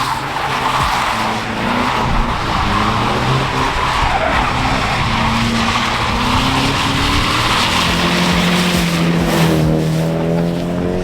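A Toyota Supra driven hard on an airfield, its engine droning loudly and continuously while tires squeal and skid in long, wavering screeches that rise and fall in pitch.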